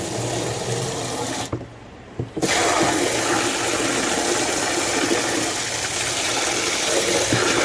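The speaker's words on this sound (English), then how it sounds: "You see the water going out there, look." Pond water draining out through a drain to the outside, a steady rushing, gurgling flow that briefly drops away before returning at full strength and continuing evenly.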